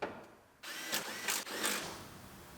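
A power drill drives bolts holding a window regulator inside a rolled-over Chevrolet Silverado truck door, a steady close whir with a few brief pulses and a short stop in the middle, no talking over it.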